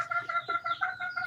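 Hens and a rooster cluck in a poultry breeding cage on a local chicken farm, with a Leghorn White among the birds; soft, steady clucking continues close by through the whole moment.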